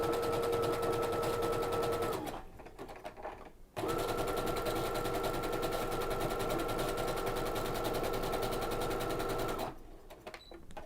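A sewing machine fitted with an overcast foot stitches decorative thread in fast, even bursts. It runs loud and close, pauses briefly, then runs again, ending in another short pause.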